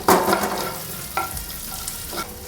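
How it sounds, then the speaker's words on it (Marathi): Garlic, ginger and a bay leaf fry in a hot pan, with a stirring burst near the start and two more scrapes later, over a steady soft sizzle and no voices. "थोडा वेळ फ्राय करून घेऊया"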